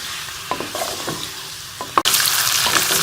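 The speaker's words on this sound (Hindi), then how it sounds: "घी गर्म हो चुका है, अब हम इसमें चिकन डालेंगे। चिकन का कलर जो है वो चेंज होने तक इसे फ्राई कर लेंगे।" Chicken pieces drop into hot ghee in a karahi and fry with a loud, steady sizzle, after a few scrapes and knocks of stirring.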